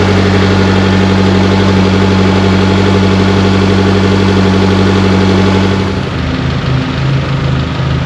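A car engine idles loudly and steadily with the heater running at full blast, a constant low drone that shifts and roughens briefly near the end.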